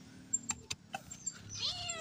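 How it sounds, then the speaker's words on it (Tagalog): A cat meows several short times in a household where pechay seedlings are being transplanted into a garden plot, the calls quiet and fairly close, ending in a louder, sharper cry. "may pusa pa kami"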